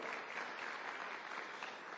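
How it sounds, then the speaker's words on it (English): Audience at a private sector alliance anniversary event in Nairobi applauding, a steady, quiet, distant wash of many hands clapping. "And I think you should applaud yourselves for that."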